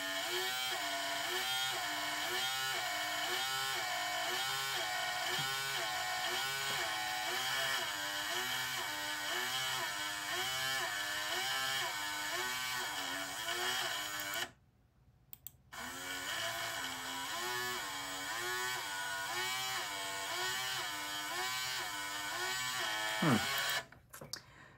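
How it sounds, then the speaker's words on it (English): A small fischertechnik electric motor whirs continuously with a rhythmic, wavering buzz that rises and falls in pitch, cutting out briefly near the middle before resuming. "interestingly, the motor seems to be fluctuating"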